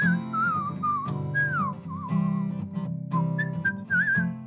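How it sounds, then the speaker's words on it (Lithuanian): A musician whistles a bright, meandering tune in his studio, solo and close up, over a steady backing of instrumental music. "O, kas čia švilpuoja? Tas švilpavimas ateina iš pono muzikanto studijos."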